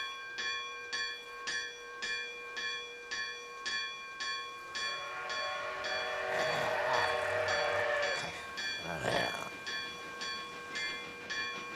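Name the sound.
train bell ringing in an anime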